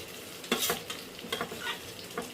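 Chowmein noodles stir-fried with egg, potato and mixed vegetables in a hot pan, giving a soft sizzle under repeated scraping stirs that come in short bursts.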